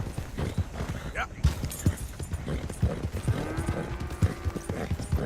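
Horse hooves clip-clop steadily on the ground in the Red Dead Redemption 2 video game, a close, rhythmic walking gait with creaking tack, while a person talks over it.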